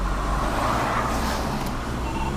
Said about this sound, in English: vehicle coming around the bend